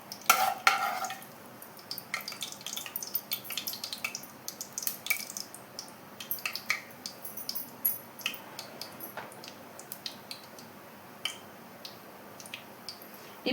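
Cinnamon, cloves, cardamom and a bay leaf frying in hot oil for chicken dum biryani, a faint, scattered crackle of small pops and spits with a few sharper taps near the start.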